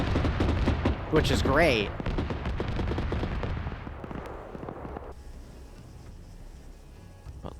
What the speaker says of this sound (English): We just got shot at.